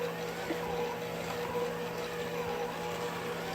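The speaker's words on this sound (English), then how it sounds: "If you have a lot, you can use that mixer. And it's way easier with the paddle bit." A stand mixer fitted with a paddle attachment runs steadily, whipping a homemade copycat Dairy Queen Blizzard with a continuous, close, even motor whir and no talking.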